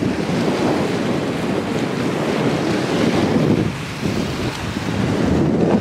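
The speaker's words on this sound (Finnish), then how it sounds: "Siinä se nyt törröttää, Atlantin valtameri." Loud Atlantic Ocean surf and gusting wind on the coast of Gran Canaria roar as a steady, dense wash, with wind buffeting the microphone throughout and no voices.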